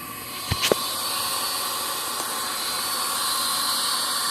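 Aerosol fogging oil from a 17-ounce can sprayed into a small engine, a couple of short sharp bursts near the start followed by a long steady hiss.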